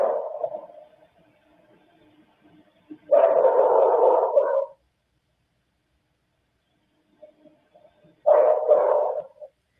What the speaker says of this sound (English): This doesn't sound to me like a dog